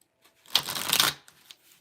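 A quick riffle of tarot cards being shuffled, a crisp burst of flapping lasting under a second, close and fairly quiet, followed by light taps.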